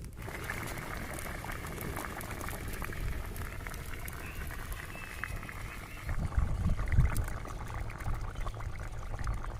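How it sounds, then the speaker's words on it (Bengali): Water bubbling at a steady boil in a pot before boal river fish goes in, a continuous low rumbling churn that swells louder toward the end. "পাঁচ মিনিট আমি এভাবে ফুটিয়ে নিয়েছি"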